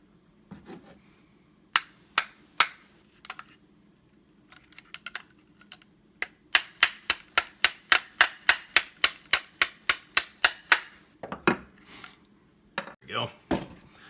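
A pin is tapped into a Smith & Wesson M&P pistol frame with an armorer's tool, producing a quick run of sharp, close metallic clicks and taps in a steady rhythm, with scattered knocks before and after.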